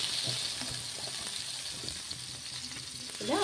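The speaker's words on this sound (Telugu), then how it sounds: "ఇలా ఒక గరిట పిండి అనేది వేసేసుకొని మనం ఈ విధంగా స్ప్రెడ్ చేసేసుకోవడమే" Peanut and moong dal dosa batter sizzles steadily on a hot pan, a continuous close frying hiss with faint scraping as the ladle spreads it, ending in a brief higher squeak.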